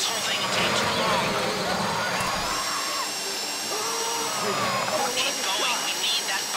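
A high-pitched whining heist drill in Grand Theft Auto V grinds continuously with shifting pitch, loud and close, while voices talk over it.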